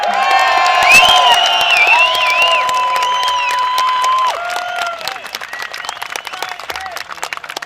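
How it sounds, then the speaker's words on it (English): An outdoor crowd at a protest bursts into loud applause with cheers and whoops, voices shouting over the clapping before the cheering fades and scattered hand claps carry on alone. "we're going to give an enormous round of applause for Mr. David Icke."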